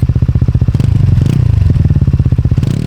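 A Kymco G7 scooter's single-cylinder engine held at full throttle, a loud, close, pulsing exhaust drone with a fast thumping beat that runs steadily throughout, with no voices.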